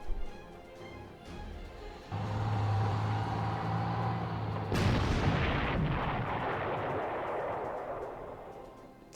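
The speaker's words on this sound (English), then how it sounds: "this is an anti-tank cannon." Anti-tank cannon fire from the wartime strategy game Panzer Corps, a low rumbling build-up followed by one sharp loud blast that rolls off into a long fading boom.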